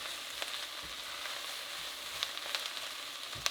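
5 to 6 minced garlic cloves sizzle steadily in a hot pan for a creamy chicken egg noodle soup, a constant crackling fry broken by occasional soft scrapes and clicks of stirring, with no talk.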